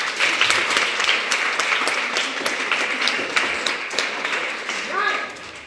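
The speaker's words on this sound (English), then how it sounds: "Please clap for her." Audience applause fills the room for a young woman, a sustained dense patter of many hands clapping at steady volume, with a voice speaking faintly near the end.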